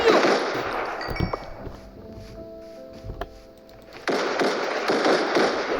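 Gunfire from a Minecraft gun mod, with dense crackling bursts of rapid shots at the start and end and a quieter gap between them where faint tonal game sounds ring out.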